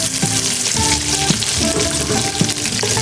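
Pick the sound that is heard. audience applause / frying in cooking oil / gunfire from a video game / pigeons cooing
frying in cooking oil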